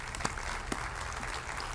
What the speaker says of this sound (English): let's give a round of applause for these candidates.